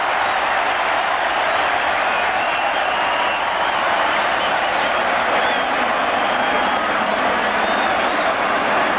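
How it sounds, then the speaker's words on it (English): Football stadium crowd at a 1984 Raiders at Seahawks game in Seattle roars and cheers in a loud, steady, unbroken wash of noise that fills the whole stretch. "Listen to this crowd."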